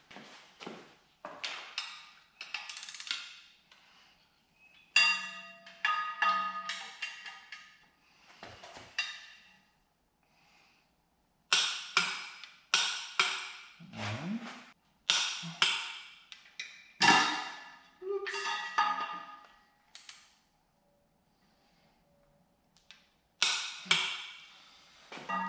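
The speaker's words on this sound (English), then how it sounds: "I'm going to torque them down to 74 foot-pounds." A wrench ratchets in repeated clicking bursts while bolts joining a 6.0 engine to its transmission are torqued down, each run of sharp close clicks followed by a brief pause.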